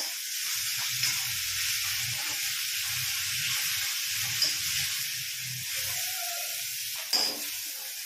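Tomatoes with a pinch of salt sizzle steadily in a pan, a continuous hiss broken by a few soft stirring scrapes and small pops.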